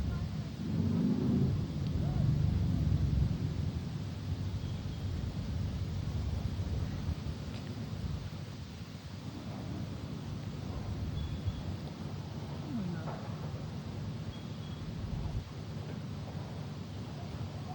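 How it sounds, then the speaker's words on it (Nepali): Steady wind rushes across the microphone with low rumbling gusts, strongest early on, continuing without pause throughout. "मजाको हावा चलिरहेको छ"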